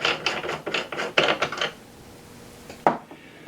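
Metallic clacks and scraping from a reloading press working a .256 Winchester Magnum cartridge case up into a die, a quick run of clunks followed by a pause and one sharp final knock.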